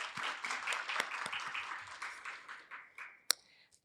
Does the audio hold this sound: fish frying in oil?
no